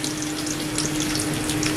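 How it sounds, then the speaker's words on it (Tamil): White onion frying in a pan for an Italian chicken salad gives a loud, steady, even sizzle that runs unbroken throughout, with no voices over it. "போட்டு 30 செகண்ட்ஸ்ல ஜஸ்ட் ஃப்ரை ஆகிறது"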